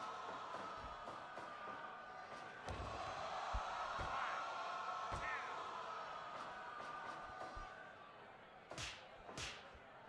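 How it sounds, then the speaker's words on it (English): Crowd murmur from the Fire Pro Wrestling World wrestling game, a quieter rooftop-venue crowd, runs as a steady broadband wash for the whole stretch, punctuated by sharp thuds and slaps from the ring action. "The crowd is different for the rooftop. They're not as loud as the regular crowd."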